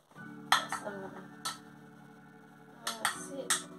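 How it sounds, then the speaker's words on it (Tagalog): A spoon scrapes and clinks against a pot as lasagne ingredients are stirred, in short metallic bursts separated by a quiet stretch, with faint talking in the background. "Haluin ko lang sa taas."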